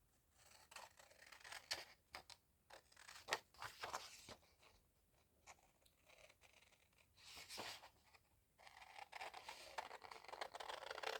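Scissors snip the corner off a paper window envelope, giving a quiet run of crisp cutting and crinkling paper sounds in irregular bursts that are close by and unaccompanied by speech.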